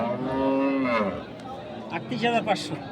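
A cow at a cattle farm lets out one long, resonant moo close by, followed by background chatter and scattered voices of people nearby.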